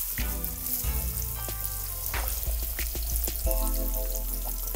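Fish backbone from large chubs, snappers and grunts deep-frying in hot oil, a dense close crackle of popping bubbles and sizzle with bright spits and steady fizzing throughout.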